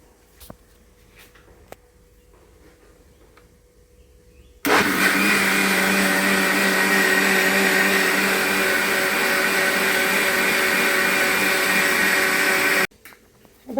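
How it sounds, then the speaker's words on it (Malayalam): A mixer grinder blends idli batter, a loud, steady whirring burst of about eight seconds that starts and stops abruptly between quiet stretches. "ഇതൊന്ന് മിക്സിയിൽ അടിച്ചെടുക്കാം"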